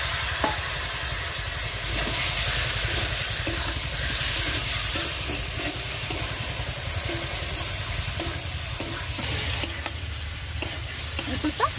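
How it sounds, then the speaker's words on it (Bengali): Jackfruit and prawn curry sautés with a little water in a pan, a loud continuous sizzle and hiss with steam, punctuated by soft rhythmic stirring scrapes throughout. "অল্প একটু জল দিয়ে আরো ভালো করে কষিয়ে নেব।"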